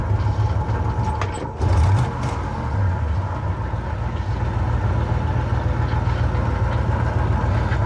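An engine idles in a car at a speed shop, a loud, steady low rumble holding evenly throughout with a brief surge near the start.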